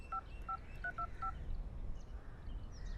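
A mobile phone is dialed: five short two-tone keypad beeps come in quick succession against a low rumbling background, then the tones stop and only ambient noise remains.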